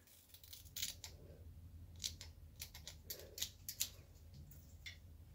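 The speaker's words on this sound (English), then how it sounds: "I grabbed crappy scissors because most likely that's what you have" Cheap scissors snip repeatedly through hair while cutting bangs at close range, crisp metallic cuts in an irregular rhythm, quiet and with no talking.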